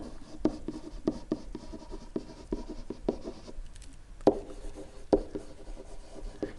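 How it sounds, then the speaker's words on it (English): A pen scratches across paper nearby, a series of short strokes with sharp taps at regular intervals as a geometry problem is worked out, quiet otherwise. "I'm going to write that down."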